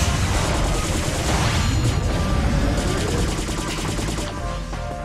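Dense, loud gunfire in the video game P.N.03, rapid overlapping shots and bullet impacts in a continuous barrage, slightly easing toward the end, no voices.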